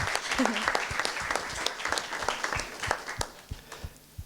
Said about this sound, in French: On peut applaudir nos 2 volontaires, super acteurs.